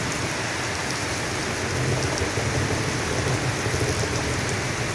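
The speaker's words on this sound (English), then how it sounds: "Oh, do you hear that rolling thunder? Do you hear that pouring rain coming down upon us?" Steady pouring rain drums on surfaces outdoors, with low rolling thunder rumbling underneath through the stretch, continuous and fairly loud with no voices.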